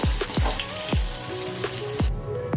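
Brinjal slices fry in hot oil with a busy, steady crackle and spatter, overlaid by several loud low thumps at intervals, as a utensil knocks against the pan.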